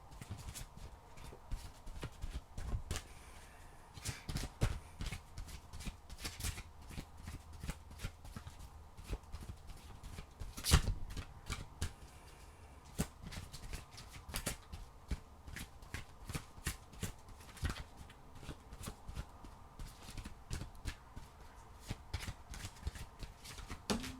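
Oracle cards being shuffled over and over, a steady run of soft papery riffles and flutters that keeps going at close range, with no talking over it.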